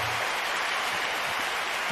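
A crowd applause sound effect, a dense continuous wash of clapping that holds at an even level for a couple of seconds.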